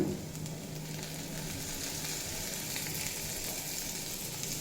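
Pumpkin pieces frying in a pan give a steady, close sizzle that holds even and unbroken throughout, with no voices.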